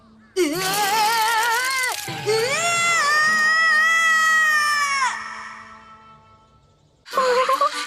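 A cat gives long, drawn-out meows after being caught in an animated scene, two sustained cries that rise and fall, then a third cry starting after a short pause, loud and close.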